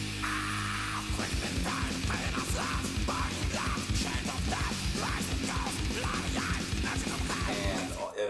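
Polish thrash metal plays off a cassette, with fast pounding drums, heavy distorted guitar and a yelled vocal, dense and steady throughout.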